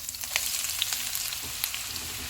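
Onions sizzle steadily in hot oil with whole spices, a close, continuous frying crackle with scattered sharp pops as they cook toward golden for mutton masala.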